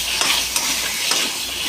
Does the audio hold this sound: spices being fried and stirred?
yes